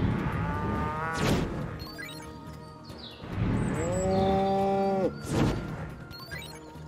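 Several drawn-out cow moos in the video game Destroy All Humans! (2020), loud and close, separated by short gaps with other game sounds in between.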